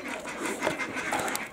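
A dog pants quickly and steadily at close range, with rapid, breathy rhythm throughout.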